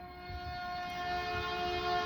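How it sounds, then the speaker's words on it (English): A train rolls past outside a library, a steady low rumble with tonal hum and faint rail noise, moderately loud and unbroken, heard from some distance with no voices. "Let this train pass."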